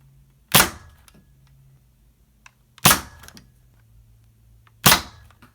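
A Nerf Holdout toy blaster with a scope attached fires three sharp, loud pops spaced about two seconds apart, each followed by a brief rattle, over a low steady hum.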